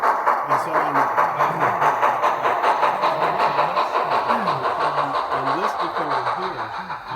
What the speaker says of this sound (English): I couldn't help but notice this 484 Great Northern, a beast of a locomotive